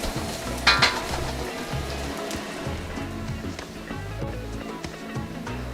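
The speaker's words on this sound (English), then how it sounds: "first up in our second batch fry is our carrots going in first. And I'm going to give this a toss." Carrots hit hot oil in a cast iron pan and sizzle steadily, with a scraping toss early on and a constant crackling fry underneath; no talking.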